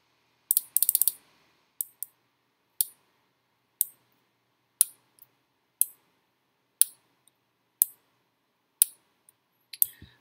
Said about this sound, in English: So we have the relay working.